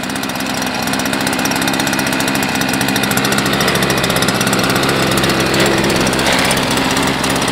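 A large homemade RC air boat's small engine, pull-started, runs steadily and loudly up close with a buzzing, mower-like drone and no pauses.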